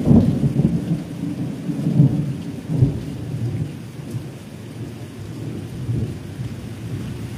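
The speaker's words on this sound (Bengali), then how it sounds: "যেহেতু বিদ্যুৎ খুব চমকাচ্ছে, বিদ্যুতের ঝলক খুব জোর, বাজ পড়ছে" Thunder rumbles and rolls in repeated low swells over steady heavy rain during a storm in the Sundarbans, loud and close, with no voices.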